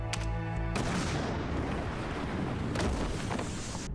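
A brief tonal hum cuts off into a loud, broad roaring blast that rumbles on with crackling debris-like noise, an explosion in the anime Bungo Stray Dogs.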